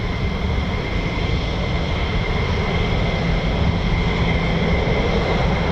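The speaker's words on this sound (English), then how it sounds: "Here we go, more F-15E Strike Eagles" F-15E Strike Eagle fighter jets flying at RAF Lakenheath, home of the US Air Force 48th Fighter Wing, a loud, steady engine roar that holds constant and broadband for several seconds without any voices.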